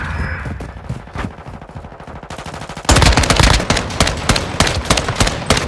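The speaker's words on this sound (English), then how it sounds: "Shoot with one and get shot by another" Gunfire in the video game Call of Duty Modern Warfare II: rapid automatic bursts that start moderate and then turn loud and dense around midway, with sharp repeated cracks and no talking.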